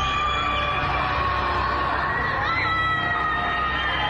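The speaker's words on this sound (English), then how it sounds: "Residents screaming from their balconies at nighttime in frustration." Shanghai residents scream and shout from their balconies at night during a citywide lockdown, a dense, distant mass of overlapping yells and cries that carries on steadily throughout.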